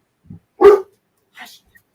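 A dog gives one loud, close bark. A faint short yelp comes just before it, and a softer, higher yip follows about a second later. No one speaks.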